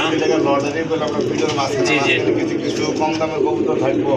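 Low, rolling coos from red-coloured pigeons at a pigeon sale carry on steadily beneath nearby people talking throughout.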